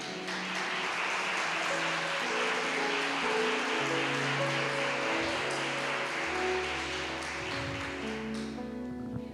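A church congregation claps steadily as a dense, continuous wash of applause over organ or keyboard chords, sustained for several seconds before thinning at the end.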